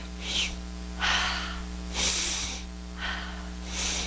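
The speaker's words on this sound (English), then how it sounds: "If I ask you to take a deep breath, show me how you will do it." A person takes deep breaths, making about five breathy rushes of air at a steady pace. The breathing is close but fairly soft, over a constant low hum.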